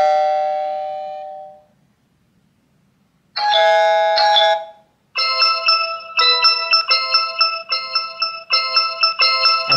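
Alert tones from a TP-Link Tapo S200B smart button ringtone preview: a sustained chime fading out, a short bright ring, then a loud repeating electronic ringing pattern pulsing in quick bursts.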